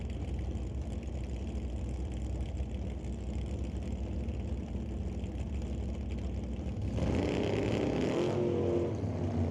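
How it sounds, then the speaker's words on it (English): Chevrolet drag race cars launching side by side at an NHRA Super Street race, a loud steady engine roar that swells sharply near the end as the cars get away, with no talk. "They both get away on a green."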